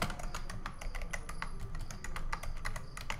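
Quick, close computer keyboard typing as a pip install command is entered, a dense run of crisp key taps with no talking.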